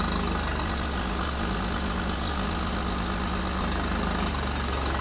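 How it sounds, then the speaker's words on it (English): A Fiat X1/9 engine idles steadily and loudly up close while its air conditioning compressor, just charged with Freon, engages, the steady mechanical drone continuing without pause. "let's see if we can get this compressor to kick on."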